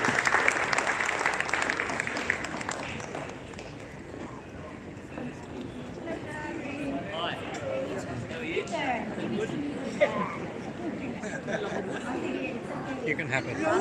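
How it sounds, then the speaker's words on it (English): At a Philippine National Day ball in Australia, guests applaud the directors and affiliates as they leave the stage; a burst of clapping fades into room chatter and voices, with scattered claps returning later. "Round of applause again, everyone, for our directors and affiliates"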